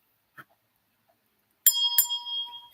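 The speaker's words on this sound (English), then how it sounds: "don't forget to hit the all notifications bell" A bright notification bell chimes twice in quick succession, ringing on with a shimmering decay after a faint click, with no voices.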